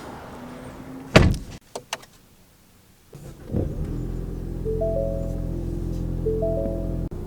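A 2023 Ford Mustang EcoBoost car door clunks shut with a few smaller knocks and rustles of someone settling in, then after a short quiet the engine starts and settles into a steady low idle hum.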